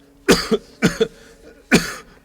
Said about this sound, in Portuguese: Há quanto tempo tem essa tosse?